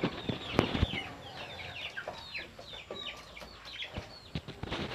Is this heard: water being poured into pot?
no